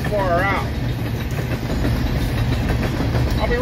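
A train loaded with coal rumbles past at a distance with a steady low roar and faint wheel noise, while a person talks over it and briefly near the start.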